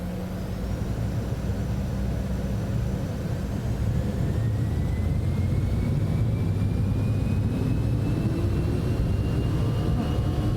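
A FlightFX Citation X business jet rolls down the runway on its takeoff run in Microsoft Flight Simulator 2024, a steady loud engine roar with a slowly rising whine, continuous and without talk.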